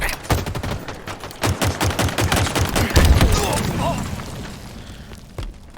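Weapon fire from Halo Infinite multiplayer, loud rapid bursts of shots in quick succession that fade toward the end, with a voice talking briefly over the gameplay.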